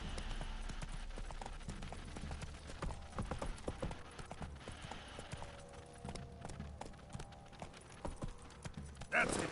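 Roach, a horse in The Witcher 3 game, trotting with steady clip-clop hoofbeats at a quick rhythm, moderately close, with a faint voice and background game sounds underneath.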